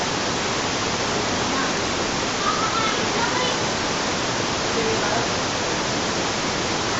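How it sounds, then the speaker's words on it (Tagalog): The falls at Majayjay pour in a steady, loud, unbroken roar of rushing water that fills the whole scene. "Yung falls nandito. Ayan. Ayan yung falls."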